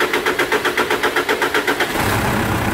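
A Mitsubishi Triton engine after decarbonization cranks with a rapid, even starter chug for about two seconds, then catches and settles into a loud, steady running drone, heard close up.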